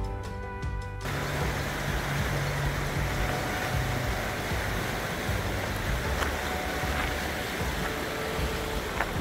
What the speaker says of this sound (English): just the sound of the river